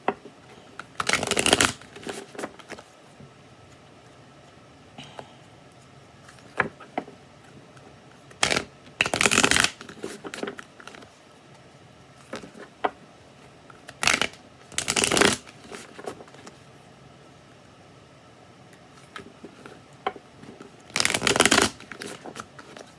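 A tarot card deck is shuffled in several separate bursts of crisp riffling and flapping, each lasting about a second, with quiet pauses in between; no talking.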